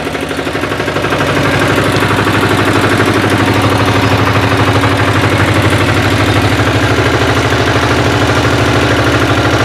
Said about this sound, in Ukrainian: Щоб мотоблочок дизельний також заглушить.